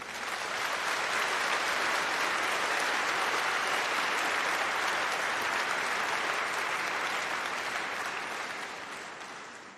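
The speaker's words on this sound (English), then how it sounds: "Please give them a big round of applause." A big round of applause from a congregation audience in a hall, dense and continuous clapping for nearly ten seconds before fading slightly at the end.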